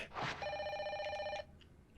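A telephone rings in the horror video game Fatal Frame: Maiden of Black Water. One steady, bright electronic ring lasts about a second after a brief soft rustle, then cuts off into quiet ambience.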